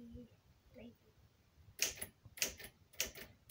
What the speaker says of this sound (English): Amazing typing.